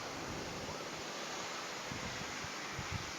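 Strong wind blows outdoors at a refrigerator compressor oil burn test, a loud, steady, rushing roar buffeting the microphone throughout with no break.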